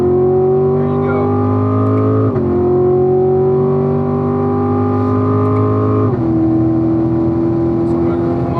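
A Corvette on a road-racing track accelerates hard out of a turn, the engine note climbing steadily and loud from inside the car with two quick dips as gears shift.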